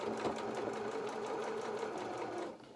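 A sewing machine stitching fabric for the head of a fox doll, running in a fast, steady rhythmic whir at close range before slowing and stopping near the end.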